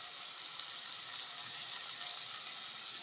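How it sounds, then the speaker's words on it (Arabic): Okra and meat sauté in a hot pan, giving a steady, even sizzle with a faint crackle throughout and no voices. "البامية خلاص انا شوحتها كده مع اللحمة"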